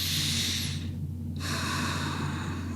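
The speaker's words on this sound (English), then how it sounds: "Inhale." A deep inhale during a breathing meditation: a long, airy breath in, a brief pause, then a second rush of breath, close and soft over a low background hum.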